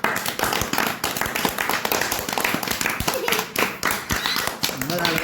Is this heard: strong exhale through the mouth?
no